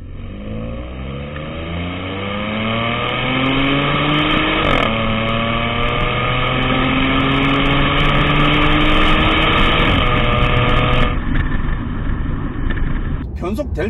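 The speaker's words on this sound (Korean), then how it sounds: "엔진 사운드와 이 배기음이 정말 매력적이에요." A 2016 Audi S4 3.0 TFSI quattro accelerates with a rising engine and exhaust note that climbs through gears, with a pitch drop at each shift and a crackle near the end, while someone talks over it throughout.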